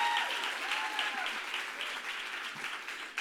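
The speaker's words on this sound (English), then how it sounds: "give Amy and the steering committee and Kimberly and everyone a round of applause" An audience at a She the People event applauds the steering committee, a steady wash of clapping sustained and fairly distant throughout, with no voices above it.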